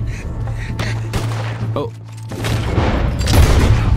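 Slow-motion gunfire in Red Dead Redemption II: a run of booming, muffled shots with a steady low hum beneath, growing denser and louder toward the end, with a brief exclamation from a player partway through.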